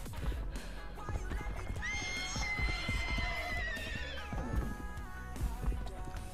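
A horse in the video game Project Evo lets out a long, loud whinny over a steady clip-clop of hooves, the neigh rising and trailing off in the middle of the scene.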